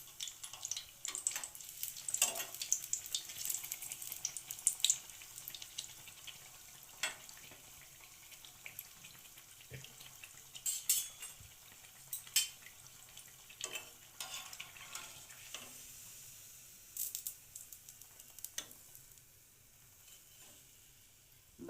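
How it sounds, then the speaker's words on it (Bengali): Malpua batter frying in oil, a steady soft sizzle with scattered crackles and occasional clinks running throughout, fairly quiet and close, with no talking. "বাকিগুলো একইভাবে ভেজে উঠিয়ে নেব।"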